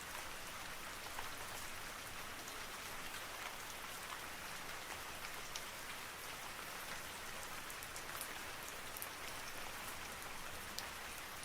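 Steady rainfall with a dense patter of drops on a surface, constant and even throughout with no other sounds.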